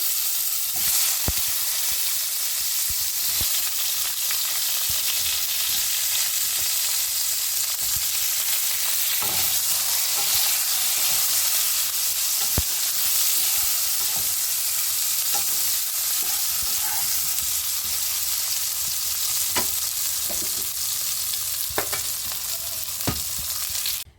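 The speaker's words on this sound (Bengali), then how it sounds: "এবার আমি আস্তে আস্তে বেগুনগুলো দিয়ে দেবো, হালকা ভেজে নেব" Brinjal pieces sizzle and fry in hot oil alongside already-fried potatoes, a steady, loud crackling hiss that runs throughout with occasional stirring clicks and scrapes; no one speaks.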